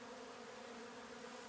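Swarm of honey bees returning into their hive, a continuous dense buzzing hum heard close and steady throughout, with no voices.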